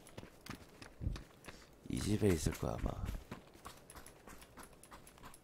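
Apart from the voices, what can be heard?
footsteps in PUBG (Battlegrounds) video game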